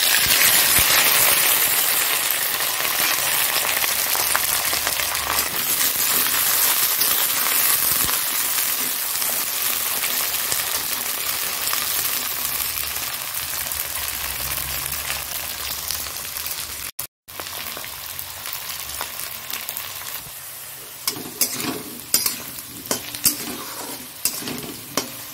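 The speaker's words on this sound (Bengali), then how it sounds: "তাই মেথি ফোড়ন দিয়েছি, শুকনো লঙ্কা ফোড়ন দিয়ে তারপরে আলুটা ভেজে নিলাম।" Potatoes frying in a pan with fenugreek seeds and dried chillies, stirred now and then. A loud, steady sizzle runs throughout, with one brief break and sharper scraping stirs near the end. No one speaks.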